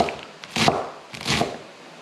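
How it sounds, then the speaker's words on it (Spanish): A knife chops fresh cilantro on a board for tacos al pastor, in two quick close bursts of rapid, crisp blade strikes with a short pause between. "Y ahora vamos a hacer lo mismo con el cilantro, vamos a picarlo."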